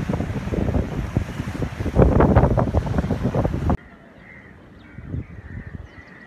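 Loud rushing surf at Vattakottai beach, Kanyakumari, blurred by heavy wind buffeting, then it drops abruptly to a quieter wash of distant waves with a few faint bird calls.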